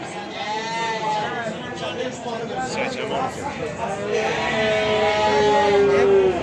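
Sheep bleat loudly and repeatedly at a busy livestock market, several animals calling close by over steady crowd chatter and nearby talking.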